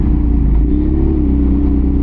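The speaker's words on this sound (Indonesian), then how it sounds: "Kalau kita geber itu suaranya lama-kelamaan membesar sekali" A BMW R nineT motorcycle engine roars loudly and continuously, a deep, heavy rumble held at high revs throughout.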